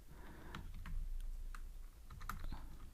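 Code being typed on a computer keyboard: quick, quiet clusters of key clicks close by, irregular in rhythm and heard alone.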